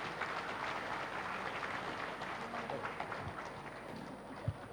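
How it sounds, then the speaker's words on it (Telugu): Faint, steady clapping from an audience at a meditation gathering, a dense patter that lasts throughout at low volume. "గట్టిగా చప్పట్లు కొడదాం మరి."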